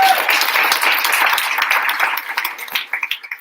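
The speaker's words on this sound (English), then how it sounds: "So let's invite the election manager on the stage with a clap." An audience claps at a student organisation's election event, a dense burst of applause that thins into scattered individual claps toward the end.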